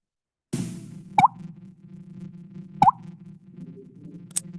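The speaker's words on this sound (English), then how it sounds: "whenever they're startled, they'll move their jaws and it'll kind of create a popping sound" An amphibian snaps its jaws when startled, making two distinct, close popping clicks a couple of seconds apart over a low steady background hum, with a faint third tick at the end.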